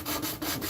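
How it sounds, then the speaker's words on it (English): Sander working across a wooden surface, a steady coarse abrasive rubbing with a slight rhythmic pulse, close and fairly loud, with no voices. "Is it sawdust if it's coming from a sander?"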